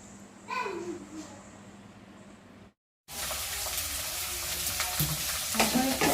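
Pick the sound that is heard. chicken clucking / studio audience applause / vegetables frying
vegetables frying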